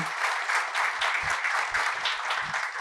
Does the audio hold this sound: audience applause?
yes